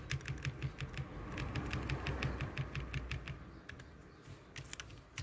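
Fingers type a short phrase on a computer keyboard while editing a Valentine's photo design, producing rapid, steady key clicks up close that thin out and slow toward the end.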